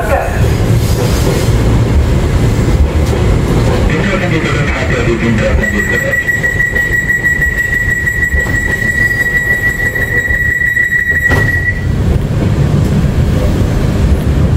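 KRL commuter train from China running between Jakarta Kota and Bogor, heard from inside as a loud, steady rumble of rolling wheels with a sustained high tone midway through, and people talking throughout.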